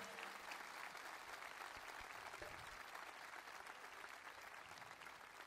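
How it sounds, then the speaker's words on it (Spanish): Steady applause from an audience at a 2018 live show, honouring the sound technician Ale; dense, continuous clapping fills the whole stretch at an even level, with no voices over it. "También fuerte el aplauso para Ale."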